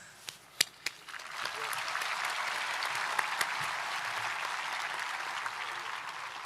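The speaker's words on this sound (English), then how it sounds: "we should have a round of applause for all the school staff and the diligent student leaders" A large audience at a 2022 high school commencement breaking into applause after a few scattered early claps, then a sustained even wash of clapping heard from a distance.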